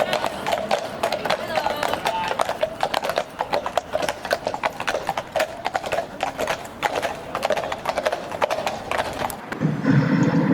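Mounted police horses walk along a street, their hooves clip-clopping in a steady rhythm that stays clear and fairly close throughout.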